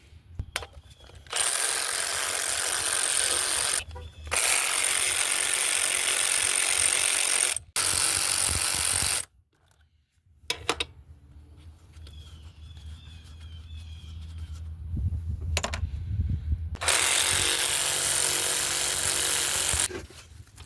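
Ratchet wrench loosening the 12 mm nuts and bolts on the throttle body of a 2005 Honda Accord 3.0L, heard as several loud, close bursts of rapid clicking separated by short pauses and quieter handling noises.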